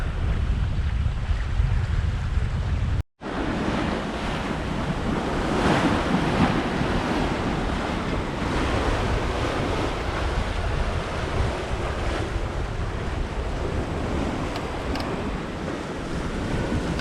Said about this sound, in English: We've been trudging along very nicely in this 14 to 20 knot breeze on the beam